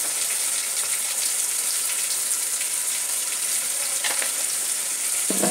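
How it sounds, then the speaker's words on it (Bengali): Spinach and green chili paste hit a hot pan, giving a steady, close frying sizzle that holds evenly throughout with faint stirring and clinks, no talk. "পালং শাক আর যে কাঁচা লঙ্কা পেস্ট সেটা এবার দিয়ে দেবো এর মধ্যে"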